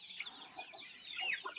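Free-range village hens cluck softly at dusk near their coop door, a faint, steady murmur of overlapping clucks and chirps with no talk over them.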